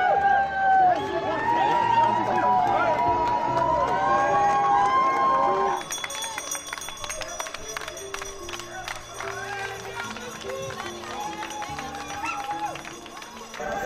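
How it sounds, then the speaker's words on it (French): Crowd applause and cheering for runners at the start of the Swiss Peaks 360 km mountain ultra-trail in the Swiss Upper Valais, loud and busy at first, then shifting to quieter crowd noise with scattered clapping as voices carry on. "On s'en fait un applaudissement pour ces coureurs."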